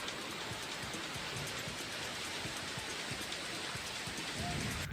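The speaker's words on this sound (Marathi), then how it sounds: "नाशिकच्या नांदगाव तालुक्यातील घाटमाथ्यावरील कासारी जवळ जोरदार पाऊस पडलेला आहे" Heavy rain pours steadily near Kasari on the ghat crest in Nandgaon taluka, Nashik, a dense even hiss that holds at a constant level throughout with no voices.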